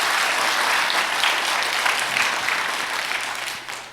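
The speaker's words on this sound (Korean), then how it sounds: "크게 박수 한번 해주세요." Congregation applause fills a church after a prayer, a dense steady wash of many hands clapping for the full stretch and easing slightly at the end, with no talk over it.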